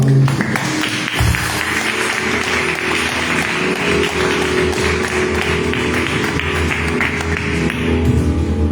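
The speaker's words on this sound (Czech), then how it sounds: "Můžeme dát potlesk našemu Pánu." Congregational applause fills a church service, a dense, steady wash of many hands clapping throughout, fairly loud and close, with a brief lull near the start.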